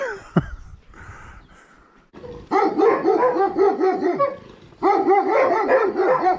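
Dog barking in a high mountain village in Georgia, a loud nearby run of repeated barks and yips after a brief whimper, with a short pause before a second burst of barking.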